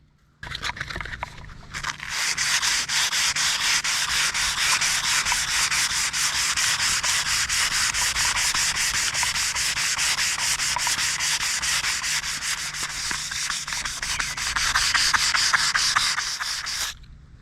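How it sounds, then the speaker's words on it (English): Wet sanding of painted black and gold trim on the Knight Rider trailer, a fast, even scrubbing rasp, close and continuous for most of the stretch before stopping. "So we're gonna do a little wet sanding here and see if we can find any gold."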